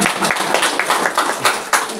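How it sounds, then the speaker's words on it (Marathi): Wedding-anniversary guests clapping together for the couple, a dense, steady patter of many hands with a few louder accents, busy and close. "जोरात उभयतांसाठी एकदा टाळ्या वाजवा सर्वांनी।"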